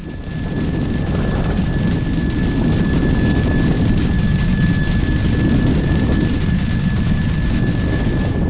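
An alarm clock rings without pause, loud and steady, to wake a paraglider asleep in flight, with a constant high electronic tone over a dense rushing background.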